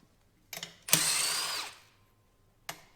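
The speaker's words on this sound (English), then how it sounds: "I've got my brother's Milwaukee 1/2 inch impact gun" A Milwaukee 1/2 inch impact gun undoing wheel nuts on a tractor: a short burst, then a loud sustained whirring hammer run of about three-quarters of a second, and a brief final blip, with no talk.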